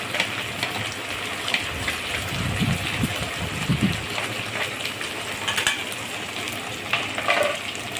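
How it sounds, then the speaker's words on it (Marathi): Chopped tomatoes with ginger-garlic paste sautéing in a pan for a cashew masala curry, an even close sizzle with soft bubbling and occasional stirring scrapes throughout. "टमाटासुद्धा असं छान परतून घेणे. त्यातच आपण आलं लसणाची पेस्ट पण घालत आहोत."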